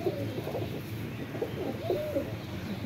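Kasuri pigeon cooing in low, repeated rounded calls, two or three soft bursts spaced across the moment over steady background noise, fairly close.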